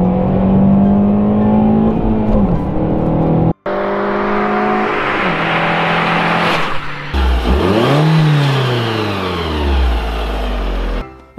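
An Alfa Romeo 147 with a small 1.6-litre four-cylinder engine revving hard toward about 7000 rpm, loud and close, with rising and falling engine pitch through repeated runs, a brief cut, and a gritty, throaty tone.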